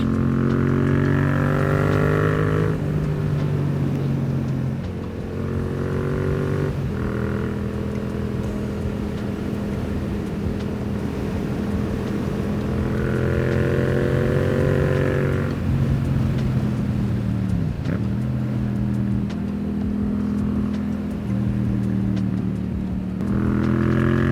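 A Yamaha MT-07 motorcycle with a new exhaust roars continuously up close, its pitch climbing and dropping through repeated accelerations and gear changes around corners, loud throughout with no talking.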